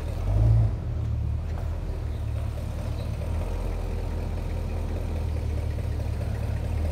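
A 1972 Cadillac Calais sedan with a 472 cubic inch big block V8 runs with a low, steady rumble after a brief louder burst at the start, and no voices are heard.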